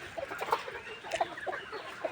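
Chickens on a poultry farm give short, scattered clucks, fairly close and moderately loud, with brief quiet gaps between calls.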